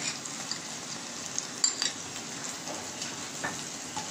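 Faint crackling sizzle of leftover masala frying in a pan with chillies, with a few light clinks of a spoon against the pan.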